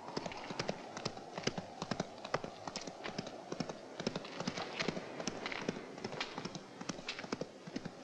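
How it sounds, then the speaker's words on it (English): A horse rides away, a steady run of quick, clear hoof clip-clops at moderate distance, faint overall over a continuous wash of background noise. "Allow the man on the horse to ride out of the area."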